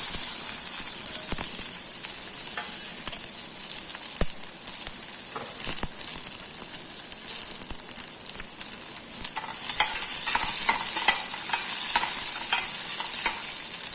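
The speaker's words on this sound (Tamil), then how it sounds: "எண்ணெய் சூடாயிடுச்சு. கடுகு, வெங்காயம் சேர்த்துறேன்." Mustard seeds and onion sizzle steadily in hot oil for Tamil-style mango pachadi, a loud continuous crackle with scattered pops and faint stirring scrapes throughout.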